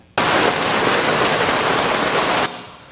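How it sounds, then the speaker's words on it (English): Steady, dense rain sound effect meant for the inside of a helicopter, a loud uniform hiss that starts abruptly, holds for about two seconds and cuts off, with no voices. "So this is the rain in the helicopter."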